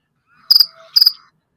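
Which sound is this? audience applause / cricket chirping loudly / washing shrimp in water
cricket chirping loudly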